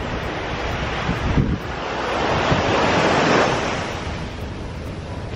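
Ocean waves roll in at Camayan Beach Resort, a broad surf wash swelling and fading with heavy wind buffeting the microphone, loud and close with no talking.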